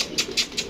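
Three quick bursts of wing flapping in an even rhythm, close and fairly loud, like pigeons beating their wings.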